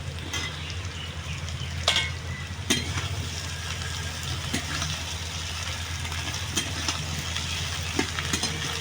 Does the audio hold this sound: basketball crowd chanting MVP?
no